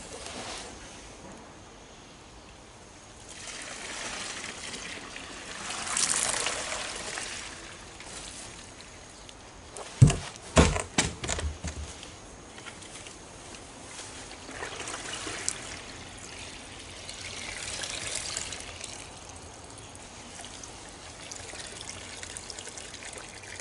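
Water tipped back out of a barrel pours and trickles in a steady wash, with a brief burst of splashing and clunks midway before settling into a gentle running stream again.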